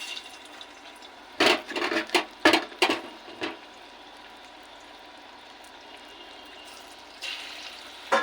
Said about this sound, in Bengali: এবার গরম তেলে ছাড়বো তেল গরম হয়ে এসছে এবার বড়ার আকারে ভেজে নেবো